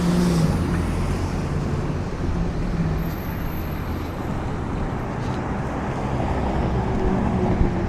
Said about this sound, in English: We'll let this truck turn